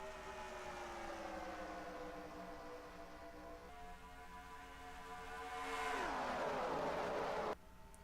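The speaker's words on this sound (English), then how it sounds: "Here they come racing down the back straightaway." Race cars in the NR2003 game roar down the back straightaway at Homestead, engine drones sweeping past and swelling to a loud pass before cutting off abruptly.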